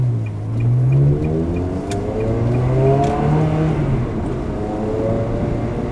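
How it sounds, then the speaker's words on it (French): A car with a tube-style Stage 2 exhaust revs and blips the throttle on a downshift, rising and falling engine tones sounding loud and close across several seconds. "un petit coup de gaz en rétrograde qui est assez sympathique"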